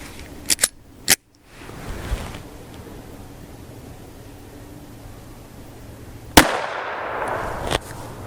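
A .380 handgun firing a Remington Ultimate Defense Compact 102-grain bonded jacketed hollow point, outdoors, with a few sharp cracks followed by one loud close report that leaves a hissing wash of noise afterward.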